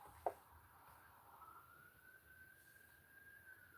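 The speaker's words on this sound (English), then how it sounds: "You guys hear all the sirens?" Faint sirens outside, a distant wailing tone sliding and holding through the moment, with a short sharp knock near the start.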